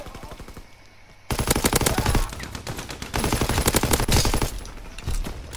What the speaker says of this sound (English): they was eating the shit out of my bullet